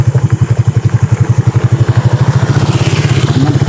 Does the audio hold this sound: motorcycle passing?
yes